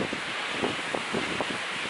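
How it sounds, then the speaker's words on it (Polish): Huge ocean waves at an empty surfing beach in Asia, heard as a steady broadband roar of surf and wind buffeting the microphone, with faint irregular swells and no voices. "fale są tak ogromne i w sumie nikogo nie widzę"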